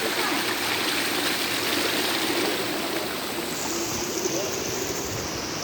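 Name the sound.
river and waterfall at Barra do Azeite, Cajati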